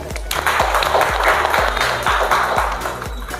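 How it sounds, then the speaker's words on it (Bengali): Loud, steady applause from a studio audience at a children's reality show, with the clapping going on without a break under a regular low rhythmic music beat. "একটা জোরে হাততালি"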